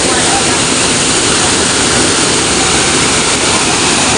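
Busay Falls in Babatngon, Leyte pours with a loud, unbroken rush of falling water that fills the whole scene at close range.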